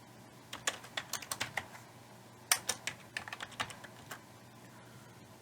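A computer keyboard rattles with quick bursts of keystrokes as a network command is entered on a PC, close and distinct with a short pause between the runs of typing.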